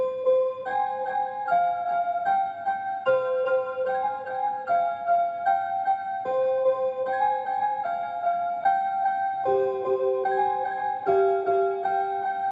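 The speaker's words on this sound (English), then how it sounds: "it just transitions into the piano being like an octave higher" A high-register piano melody from a dark, textured sample moves an octave up, with sustained notes changing steadily in a slow repeating phrase over a soft low bed, with no voices.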